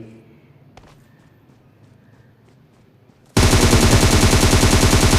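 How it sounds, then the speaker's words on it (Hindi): Gunfire in the mobile game Battlegrounds Mobile India: after a few quiet seconds, a sudden loud burst of rapid automatic shots rattles on without a break to the end. "यहाँ पर पीछे से किसी की फायरिंग मुझे सुनाई दी"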